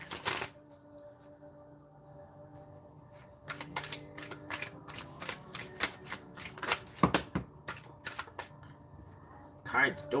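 A deck of tarot cards being shuffled by hand, with irregular bursts of riffling and flicking cards that grow busier midway, close and fairly clear.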